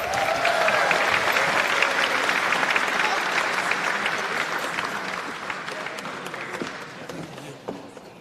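An audience applauds steadily at the 2023 Focus on Ability Film Festival awards show, a dense, even wash of clapping that holds for several seconds and tapers slightly toward the end.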